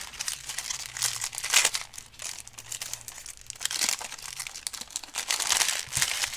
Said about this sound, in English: It's a guy who's sorting card at the back